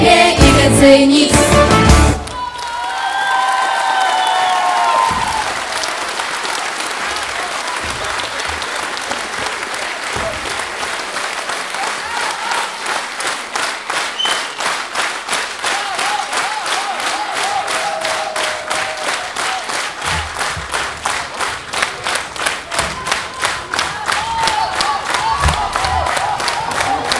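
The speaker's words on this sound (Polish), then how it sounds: "Dziękujemy Państwu bardzo za brawa." An audience applauds after a folk dance troupe's stage performance, with sustained dense clapping that shifts into a rhythmic, steady beat in unison and grows louder toward the end.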